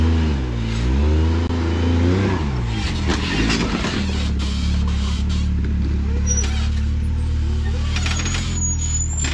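A 72-inch off-road side-by-side on 35-inch Zilla tires revs hard on rock at an off-road park, the engine rising and falling in loud surges before settling into a steady growl, with people talking nearby.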